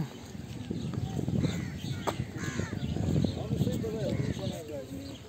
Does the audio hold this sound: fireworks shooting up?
no